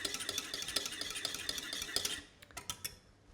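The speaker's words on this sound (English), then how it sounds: "So just turn it off completely, drop it in, and then whisk it" A whisk clatters rapidly against a pan as egg yolk is beaten into a cheese sauce for cauliflower cheese. Quick, even metallic ticks come through quietly, then turn sparser and stop near the end.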